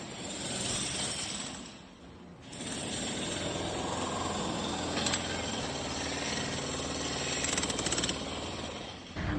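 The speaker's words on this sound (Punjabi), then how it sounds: "ਆ ਦੇਖੋ ਮਜ਼ਦੂਰ ਲੱਗੇ ਹੋਏ ਨੇ ਨਾਲ ਦੀ ਨਾਲ ਤੋੜ ਕੇ" Workers breaking concrete with a jackhammer on a mosque construction site on Ludhiana Road: a steady, loud, rapid hammering that runs almost continuously for about nine seconds, easing off briefly once before resuming.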